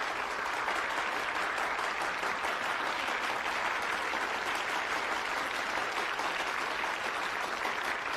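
Sustained applause from an audience at a debate tournament, greeting the announced winning team; steady, dense clapping fills the whole stretch at an even level, with no talk over it.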